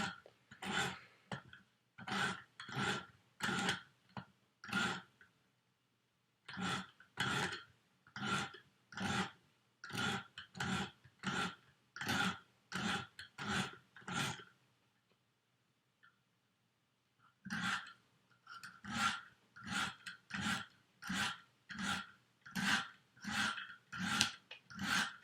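Sharpening stone of a KME guided sharpener drawn in steady repeated strokes along a clamped knife blade, a long regular rhythm of close scraping strokes with a short pause before the strokes resume on the other side.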